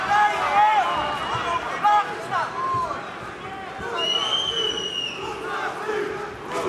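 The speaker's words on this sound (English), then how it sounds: "The crowd at the Forum chanting Mousasi." Arena crowd at the Forum chanting the name of fighter Gegard Mousasi during a Bellator MMA bout, a loud rhythmic chant from a large audience with a commentator talking over it.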